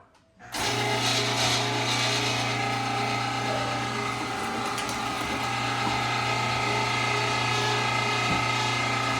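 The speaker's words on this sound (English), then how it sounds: "This is the Meat Your Maker brand grinder. We're going to be mixing meat and fat in there and letting it work." A Meat Your Maker meat grinder switches on sharply after a brief quiet start, then runs with a loud, steady motor drone and a low hum while mixing meat and fat, with no talking.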